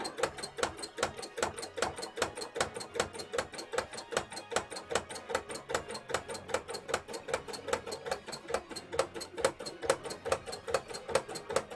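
A sewing machine stitches around the edge of a hat in sewing machine art, running in a steady, rapid rhythm of clicking needle strokes for the whole stretch, close and fairly loud with no talking.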